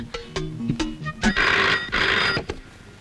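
A telephone in a Telugu film scene gives two loud, close ring bursts after a few short knocks and clicks. The ringing then falls silent.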